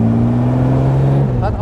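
A 1977 Suffolk replica of the Jaguar SS 100 prewar roadster, over 200 hp, its engine droning loud and close with a steady low hum that shifts near the end.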